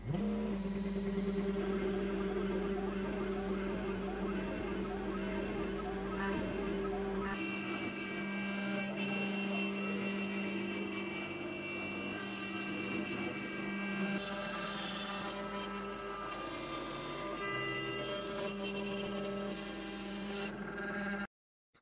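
A Carvey CNC router mills a wood project, a loud sustained whining spindle with shifting pitch and grinding cutter tones, the motor sound changing partway through, running alone for the whole stretch.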